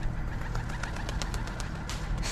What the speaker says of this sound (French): c'est le pigeon du voisin